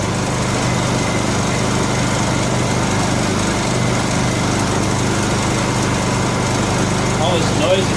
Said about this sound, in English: All this noise is stuff rattling.